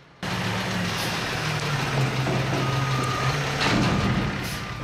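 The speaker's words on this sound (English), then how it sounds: "It's also the trucks." A truck reverses with a steady tonal backup beeper over a constant engine rumble, loud and close, with a faint air-brake hiss near the end; no talking.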